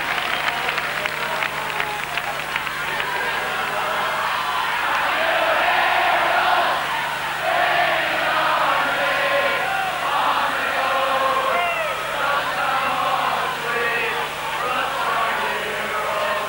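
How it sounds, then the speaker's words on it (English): A large crowd at a schools rugby cup final at Lansdowne Road roars and cheers steadily throughout, a dense sustained wall of voices under commentary. "you're able to hear in the background the large crowd here in Lansdowne Road in full voice"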